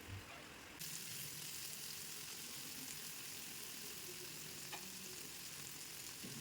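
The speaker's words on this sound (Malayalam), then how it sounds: "ആ സൈഡും ഇതുപോലൊന്ന് ഫ്രൈ ആവട്ടെ." Chicken pieces, turned over partway through cooking for an Afghani chicken dish, fry in a pan with a steady broadband sizzle that runs throughout. There is a brief quieter moment at the very start and a faint clink near the end.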